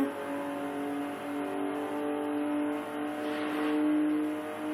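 Car engines in a video game hum steadily at an even pitch, with a slight rise in revving near the end and no talking.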